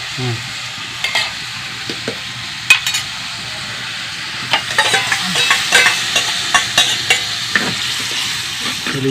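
Curd, half a litre, goes into a pot of onion curry and a spoon stirs it, faint sizzling under scattered scraping and knocking of the spoon against the pot, growing busier toward the end, with no talking.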